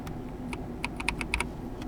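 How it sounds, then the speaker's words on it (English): Keys on a Logitech G316 X keyboard with freshly hot-swapped switches are tapped in a quick, close burst of several crisp clicks, with no talking. "And now we can check the responsiveness of our keyboard like this."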